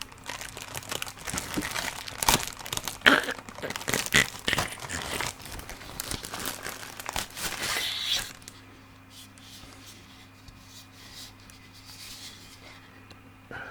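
Packaging is torn open and crinkled during a whispered ASMR unboxing. Close, busy bursts of crumpling and ripping fill the first eight seconds, then fade to near quiet.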